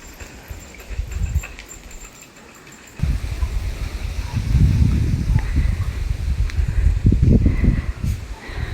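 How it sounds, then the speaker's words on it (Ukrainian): Gusty autumn wind rustling through leaves in a village yard, rising stronger after a few seconds with broad low rumbles of air buffeting nearby. "А вітер сьогодні сильний."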